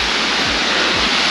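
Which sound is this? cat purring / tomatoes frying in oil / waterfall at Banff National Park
waterfall at Banff National Park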